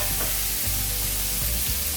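A ribeye steak searing in oil in a smoking-hot cast iron skillet gives a loud, steady, close sizzle and crackle that continues without a break and without any talk.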